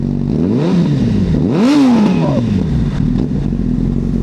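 A Honda CBR1000RR sport motorcycle's engine runs nearby at idle, then revs sharply up and back down in one loud rising and falling sweep before settling to idle again.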